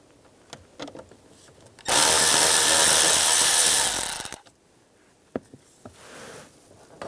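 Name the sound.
power screwdriver removing screws from Volkswagen Beetle panel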